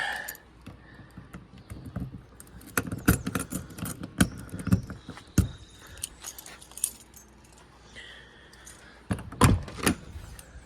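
The entry door of a 2021 Crusader 382MBH RV on a friction hinge: handle rattles and clicks with several sharp knocks and latch clunks, a few loud bangs near the end as it is worked open and shut.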